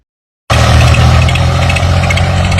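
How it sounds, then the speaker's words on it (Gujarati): A tractor works in a farm field, its engine kicking in abruptly after a moment of silence and then holding a loud, steady, close-up chugging drone with a rattling mechanical edge. "બળજબરીપૂર્વક ટ્રેક્ટર સાથે કામ કરવામાં આવી રહ્યું છે"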